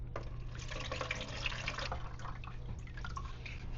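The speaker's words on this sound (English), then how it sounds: "Now you're going to want to put water inside, and you can fill it up to 5 liters max." Water pours into the 5-liter reservoir of a 14-pod hydroponics growing kit, a steady splashing fill with brief drips, close and moderately loud, heard alone without talk.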